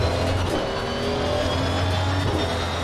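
Damaged race car in a racing video game, its engine droning loudly and continuously with a steady high-pitched whine and a rough low rumble, with no talk over it.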